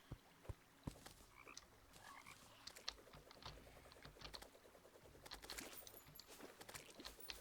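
Faint frog croaks in the video game Terraria, scattered short ribbits mixed with rapid keyboard typing clicks, quiet and busy throughout with no talk.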